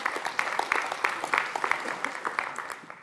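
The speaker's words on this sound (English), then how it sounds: "So I guess we can give an applause to the RISC-V maintainers." Audience at a conference keynote on KVM claps in a scattered burst of applause, moderately loud and sustained for a few seconds, with the hand claps sharp and uneven.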